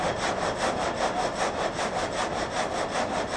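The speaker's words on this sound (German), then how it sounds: "Der Vorschub ist zugeschaltet, das Gatter sägt." A water-powered frame saw cuts boards in an old sawmill, its blade rasping through wood in a steady rapid back-and-forth rhythm, loud and continuous with no talk.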